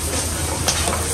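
Onions and chillies frying in ghee at Mahadev, a roadside highway dhaba on the Jodhpur–Jaipur highway: a steady, close, hissing sizzle with faint stirring, brief and continuous.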